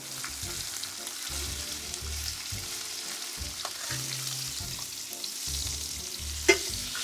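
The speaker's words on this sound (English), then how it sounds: "while the meat is browning" Seasoned mutton browning in a pan for a Durban curry, a constant close sizzle and frying crackle with stirring, broken by short low thuds and a brief clink, no talking.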